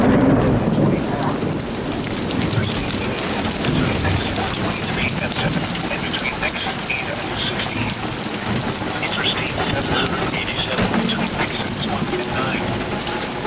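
A severe thunderstorm in Pittsfield, Massachusetts, with heavy rain pouring down steadily and loud rumbling thunder throughout, close and continuous.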